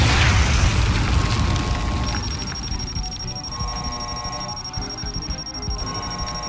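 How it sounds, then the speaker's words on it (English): A deep boom from an explosion in the interactive thriller game Live Wire, loud at first and then fading into a lingering rumble while a thin, steady high ringing tone sustains underneath. "Jump from the explosion! Jump!"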